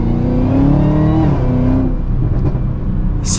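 A 2023 Chevrolet Camaro ZL1 with a carbon fiber air intake accelerates, its engine roaring loudly from the cabin with a rising then easing pitch as the revs drop off.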